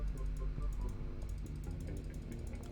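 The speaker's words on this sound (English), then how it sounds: "I just realized you guys can hear the clicking of my mouse" A computer mouse clicking during a video game session, heard as quiet, rapid mechanical ticks repeating close to the microphone over a steady low background, with no talk.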